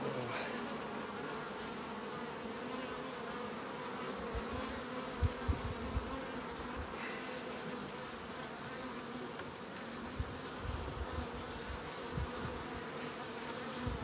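Honey bees buzz steadily around an open nuc hive, a dense continuous drone close by with occasional soft handling knocks and no talking.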